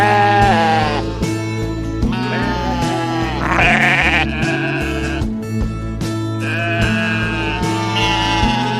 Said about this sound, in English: Sheep go baa.